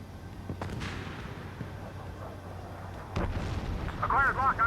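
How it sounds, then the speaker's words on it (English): Missile fire booms in a combat flight video game, a deep blast near the start and another heavy explosion later over a constant engine rumble, with radio voices and warning tones around it. "Missile launched."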